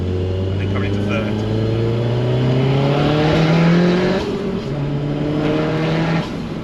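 A 460bhp Mk1 Audi TT quattro pulls hard through third gear, its engine note climbing steadily and loud from inside the cabin, with a brief shift near the end and voices talking over it.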